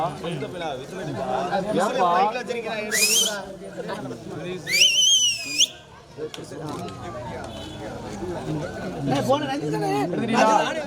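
Someone whistles loudly at a crowded village prize-giving ceremony, with two shrill rising whistles over steady crowd chatter and an announcer's voice.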